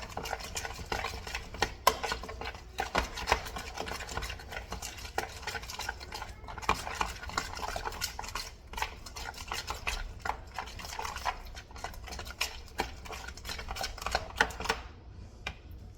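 A spoon churns tuna salad made from two cans of tuna and mayonnaise, giving a steady, soft, wet scraping and squelching that repeats in quick strokes for the whole stretch, close and fairly quiet, with no voices.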